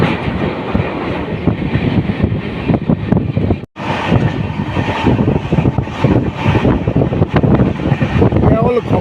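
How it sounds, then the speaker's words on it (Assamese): Passenger train crossing a railway overbridge near Nalbari station in Assam, a steady loud rumble with clickety-clack of wheels and wind buffeting the microphone, a brief dropout midway, and faint voices underneath. "নলবাৰী ৰেলৱে ষ্টেচন এৰিয়ে পাগলদিয়ানৰ ওপৰত যিখন ৰেলৱে অভাৰব্ৰিজত ট্ৰেইন আমাৰ সোমাই পৰিছে"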